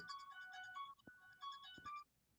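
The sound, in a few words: phone ringtone playing the Halloween theme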